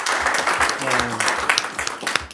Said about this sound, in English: I just want to give you all a round of applause for that.